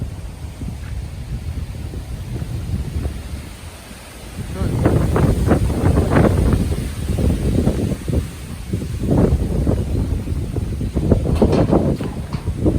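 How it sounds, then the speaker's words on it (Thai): Strong, cool wind gusts through swaying trees, roaring loudly in surges with rustling and microphone buffeting, building after a brief lull. "โอ้ยลมเย็นดี เย็นจังเลย ต้นไม้ไหวหมดเลย"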